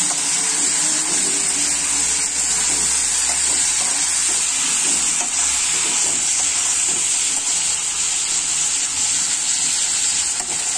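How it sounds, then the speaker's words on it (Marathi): Chopped tomatoes fry in a hot pan for a veg kurma bhaji, giving a loud, steady, continuous sizzle with occasional stirring scrapes and no voices. "चिरलेला टमाटा, तो थोडा मऊ होईपर्यंत आपण भाजायला पाहिजे"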